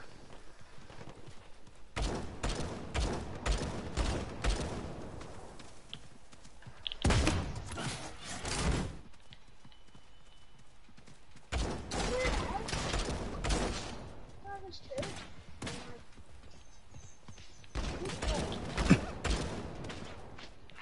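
SMG fire in the battle royale game Realm Royale: several long sprays of rapid automatic shots in separate bursts, moderately loud, with quieter gaps between and no clear speech.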